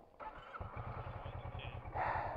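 Kawasaki Versys 650 motorcycle engine starting up and idling nearby, with a quick, steady low pulsing thrum that rises slightly toward the end.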